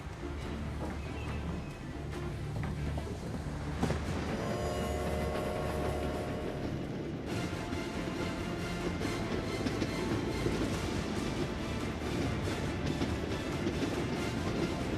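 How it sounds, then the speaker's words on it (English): A train rumbles steadily along the rails with continuous rattling and clatter, a brief squeal partway through, heard from close by. "The train departs Cleveland at 6:25 a.m."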